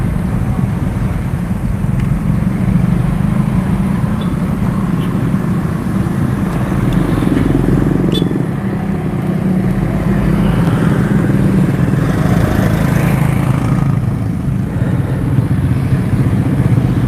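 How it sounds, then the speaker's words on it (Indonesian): A motorcycle engine drones steadily while riding, a continuous mid-level rumble heard throughout with no clear voices. "Bu Haji naik motor kejar ujung culit"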